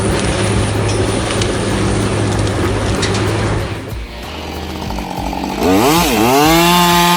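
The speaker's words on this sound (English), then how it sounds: "The sound of a chainsaw can be an energizing and powerful experience." A big chainsaw cutting a tree in forestry work, its loud continuous engine roar held steady for several seconds, then dropping briefly before revving up again with rising and falling pitch.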